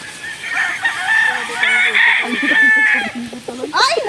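A fighting cock crows loudly and close by, with a long drawn-out call and a second crow near the end. People speak faintly in the background.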